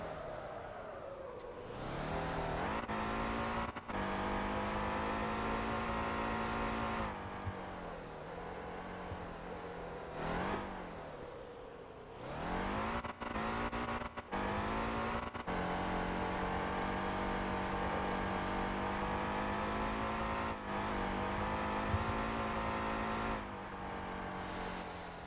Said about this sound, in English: see how it really changed the way he downshifts